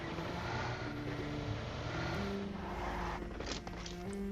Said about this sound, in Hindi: यहाँ से एक गाड़ी गुजरती है